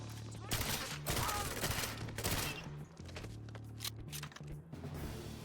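Rapid bursts of gunfire ring out in the 2012 James Bond game 007 Legends, dense sustained volleys with short pauses, while a player talks over the shooting.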